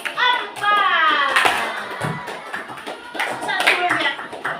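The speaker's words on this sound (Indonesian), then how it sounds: "Tepuk tangan buat kelompok" A classroom group applauds a team, bursts of hand clapping rising and falling over a few seconds, with children's and adult voices calling out between and over the claps.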